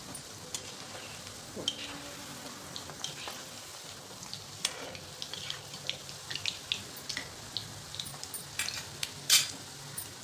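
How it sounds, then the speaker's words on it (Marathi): Soya manchurian balls fry in hot oil over a medium-low gas flame, giving a steady faint sizzle broken by scattered sharper crackles and pops, with no one talking. "आता मीडियम टू लो फ्लेमवरती तळून घ्यायचे"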